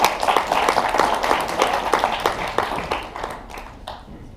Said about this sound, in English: give him one more round of applause, please